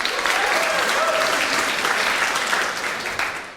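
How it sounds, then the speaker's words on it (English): Sustained applause from an audience at a 2016 university students' union election results announcement, steady dense clapping filling the room, with faint voices calling out underneath. "Let's have a round of applause for everyone"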